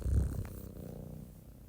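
A cat purrs up close, a low rumbling vibration that starts strong and softens over a brief moment.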